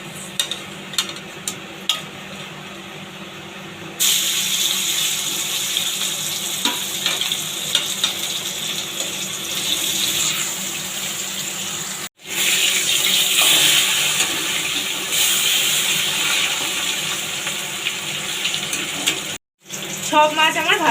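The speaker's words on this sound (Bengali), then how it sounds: "এবার এই মাছগুলো তুলে নিয়ে বাকি মাছগুলো ঠিক একইভাবে ভেজে নেব।" Fish frying in hot oil in a pan, a steady loud sizzle that holds throughout and jumps in intensity after a few seconds. There are two brief dropouts, and light clatter of stirring rises above the sizzle.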